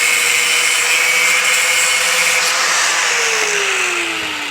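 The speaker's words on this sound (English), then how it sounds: "I'm cutting these down using a grinder" An angle grinder cuts through steel bolts with the nuts still threaded on, a loud, steady high whine with harsh grinding that holds throughout and drops slightly in pitch near the end.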